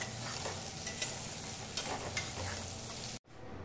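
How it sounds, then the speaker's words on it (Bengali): Carrots and beans fry in white oil in a wok, a steady close sizzle with occasional scraping stirs, cutting off abruptly near the end. "গাজরটাকে ভালো করে ভেজে নিচ্ছি"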